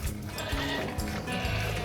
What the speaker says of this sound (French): Les chèvres ici sont des pyrénéennes, race en voie de disparition, race locale, hyper rustique.